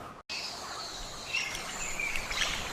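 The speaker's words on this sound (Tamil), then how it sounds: "இயற்கை வண்ணங்களை முழுவதும் அணிந்த பறவை, பாரடைஸ் டானஜர்." A paradise tanager calls in the Amazon rainforest, faint high chirps and thin tweets scattered over a steady hiss of insects and forest ambience, growing slightly busier toward the end.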